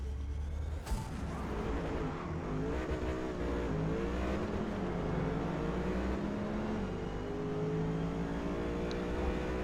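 Race cars accelerating down the long Le Mans straight in Forza Motorsport, a C8 Corvette among them, with a loud, continuous engine whine whose pitch climbs steadily through the gears.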